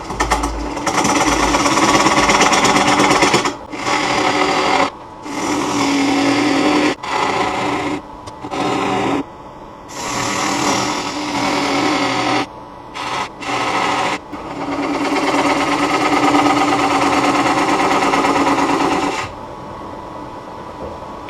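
Woodturning pull cuts on a spruce natural edge bowl produce a loud, rough, continuous tearing chatter in long stretches, stopping and restarting several times with short pauses between passes.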